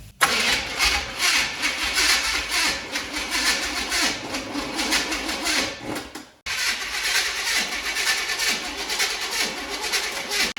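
A 1977 Chevrolet C20 pickup with a 454 big block V8 churns loudly and steadily as it cranks and turns over. The sound cuts out briefly partway through, then resumes just as loud.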